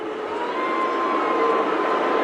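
End-of-quarter siren at an Australian football match, Brisbane versus St Kilda, a sustained steady wail held for the whole stretch, blended into a broad roar of crowd noise in a large stadium.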